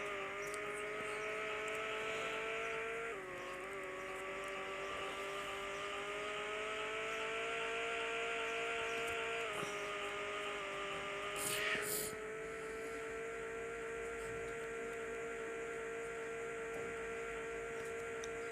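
A car engine in a Roblox racing game holds a steady high drone, shifting pitch slightly as the car speeds up. The sound runs continuously, loud and close, with no talk.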